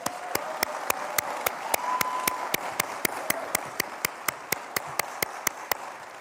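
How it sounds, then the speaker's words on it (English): At an outdoor street naming ceremony honoring Justice Ketanji Brown Jackson, the crowd claps in steady unison, about three crisp beats per second, continuing evenly over a soft bed of crowd noise. "You all give her and her parents another round of applause"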